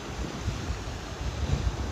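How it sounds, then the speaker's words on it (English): River water rushing over rocks at Harpers Ferry, a steady broadband wash with low rumbling surges, close and continuous with nothing else over it. "these rocks in the river and the sound of the river"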